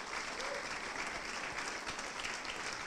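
A congregation claps steadily together, a dense, even wash of applause heard from within the crowd, fairly faint.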